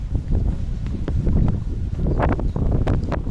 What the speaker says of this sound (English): as you can hear, a lot of wind